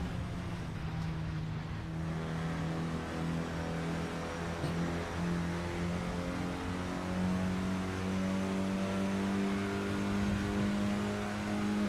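Renault Clio Cup race cars at Bridgehampton in a sim racing game, engines droning loudly and steadily down a straight with climbing revs, several cars running close together and no talk.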